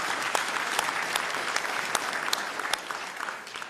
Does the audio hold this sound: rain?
no